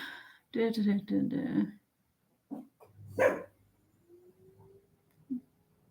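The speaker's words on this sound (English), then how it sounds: "dog has just decided to start barking" A pet dog barks in a home during a live chat. Several loud close yaps come in a quick cluster early on, then another sharp bark, with someone talking between and around them.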